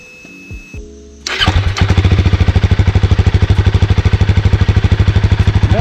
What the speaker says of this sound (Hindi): अभी ये बाइक को स्टार्ट करके दिखा देगा आपको ये बाइक का साउंड कैसा है।